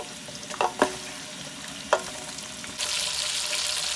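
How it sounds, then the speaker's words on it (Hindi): Meat going into a pan of onions fried for a minute or two, with a few sharp clatters and stirring sounds, then a steady loud sizzle taking over near the end. "अब हम इसमें गोश्त डाल देते हैं।"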